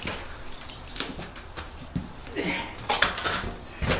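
Hard objects clattering and knocking as bricks drop and tumble, a series of irregular clunks and scrapes, fairly close with no talking.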